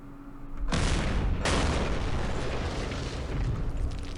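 Missile explosions in the wargame Campaign Series Middle East, aimed at tanks: a loud, close blast, then a second right after it, rolling into a long, heavy rumble. No one speaks.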